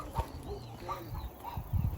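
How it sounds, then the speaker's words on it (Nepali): Chickens cluck and murmur close by in short, overlapping bursts, with low rustling beneath. "धेरै रहेछ कुखुराहरू"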